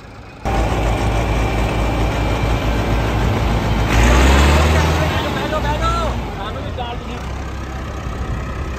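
A tractor engine roars loud and steady during a tochan tractor pulling contest at Jahangir Kalan, Faisalabad, swelling briefly mid-clip, while a crowd murmurs and a commentator talks over it.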